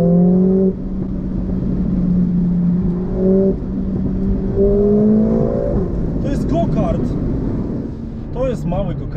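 Engine of a 2020 Mercedes-AMG A45 S Edition One (421 hp) revving through downshifts, with loud climbing and dropping engine tones heard from inside the car and someone talking over them.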